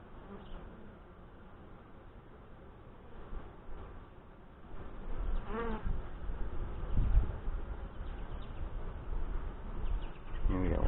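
Saskatraz honey bees swarm around an open hive during an inspection, a steady close buzz that thickens and grows louder partway through, with wingbeats passing near.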